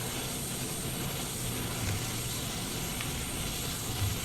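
Steady engine drone of an Azurpoly C-160R aircraft in Flight Simulator 2024, a continuous broadband hum and whine holding level throughout with no talking.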